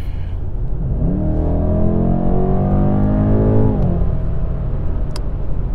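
BMW M850i V8 engine revving, a loud, close rising roar that climbs steadily for several seconds, holds, then drops off sharply, with no talk over it.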